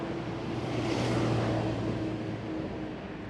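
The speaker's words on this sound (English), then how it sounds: "A little noisy with the traffic here" Road traffic passing on a street in South Croydon, a broad whooshing roar that swells to a peak near the middle as a vehicle goes by, then eases into a steady background hum.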